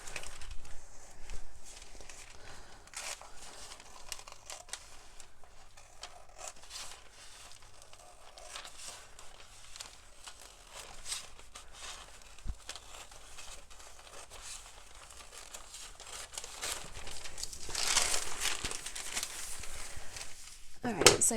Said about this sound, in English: I'm going to cut out the excess on the top of my piece of paper here, just to make it a bit easier to work with.